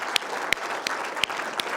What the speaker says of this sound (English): I'd like you to give these young students a round of applause.